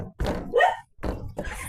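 A dog barks in a backyard garden, a few sharp close barks separated by short pauses, with a light thump between them.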